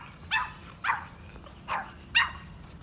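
A neighbor's dog barks four times at a steady pace, each bark short and somewhat distant, heard faintly in the background of a quiet garden with no talking.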